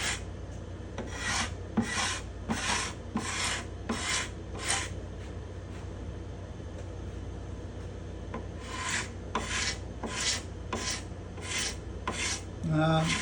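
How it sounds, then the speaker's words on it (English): A cabinet scraper scraping the binding on a spruce guitar top, heard as rhythmic rasping strokes in two close runs of about six or seven strokes each, with a short pause between runs and no talking. "So I'm going to start scraping here and testing it."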